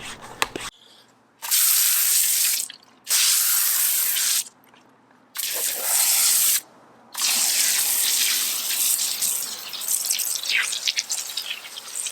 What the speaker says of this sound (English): We're going to pump it up with our IK foam spray.